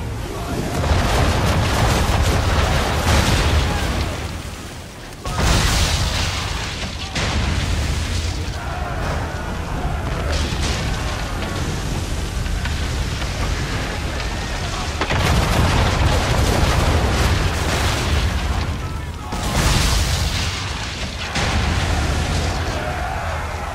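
Cannon fire from a ship in a storm at sea in Assassin's Creed III, heavy booms rolling over constant roaring wind and waves, with bursts recurring through the stretch and voices now and then.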